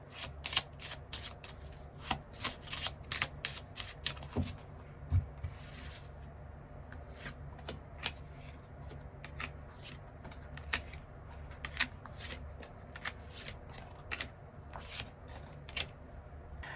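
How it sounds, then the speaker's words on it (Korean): Tarot cards shuffled and drawn at a table: close, soft riffling and snapping card sounds in quick irregular bursts, with brief pauses, faint overall and without talk. "일별로 월요일부터 일요일까지 어떤 하루를 보내게 될지 추가 카드 뽑아보도록 하겠습니다"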